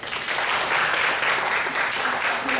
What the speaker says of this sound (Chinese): 用热烈的掌声欢迎我们的骆老师